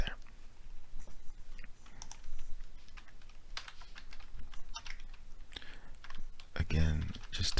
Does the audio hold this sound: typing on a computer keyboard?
yes